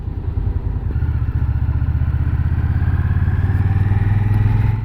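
An Indian Scout Bobber Twenty motorcycle engine runs on a test ride, a loud, steady, close throbbing drone whose pitch climbs gently as the bike pulls, with a faint clatter early on.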